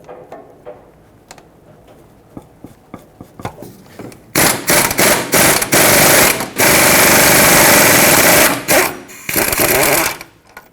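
Impact wrench rattling loudly in several bursts as it removes a brake caliper bracket bolt on a 2006-2010 Hyundai Sonata, starting with faint taps then long harsh hammering runs with short pauses.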